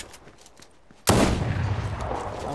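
A shotgun blast in the video game Fortnite cuts in abruptly and loudly after a second of quiet game ambience, followed by a sustained roaring burst of firing noise.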